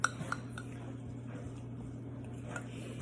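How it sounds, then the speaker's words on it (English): A fork mixing melted cream cheese in a bowl for keto fathead pizza dough, giving a few faint clinks and soft squishy scrapes over a steady low hum. "So I'm gonna use my fork and I'm just gonna mix it just a little bit"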